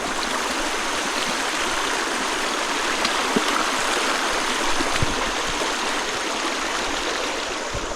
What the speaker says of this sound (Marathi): चला ओढा क्रॉस करूया प्रयत्न करू शूज न भिजवता ओढा क्रॉस करण्याचा